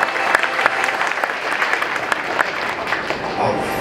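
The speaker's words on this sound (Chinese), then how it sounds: "掌声有请" A seminar audience gives sustained, dense applause to welcome guest speaker Dr. Wang Jian, loud and even throughout, with a faint crowd murmur beneath.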